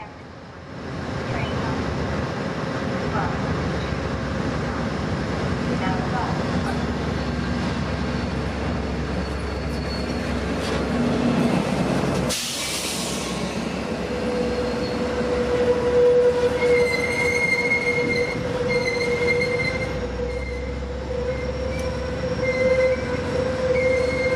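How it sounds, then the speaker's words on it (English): EMD F59PHI locomotive number 2003 leading a southbound Capitol Corridor passenger train past Emeryville, a steady loud rumble of engine and rolling cars with wheel squeal and tonal whines throughout, close by. "another southbound Capital with EMD F59 PHI number 2003 at the head end"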